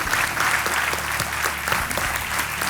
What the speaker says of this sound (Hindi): आइए तालियों के साथ आपका स्वागत।